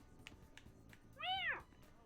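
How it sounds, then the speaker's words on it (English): A cat in Persona 5 gives one clear, drawn-out meow with a rising and falling pitch. It sits near the end of the clip over a faint, quiet game background, with no speech. "Cat is now awake."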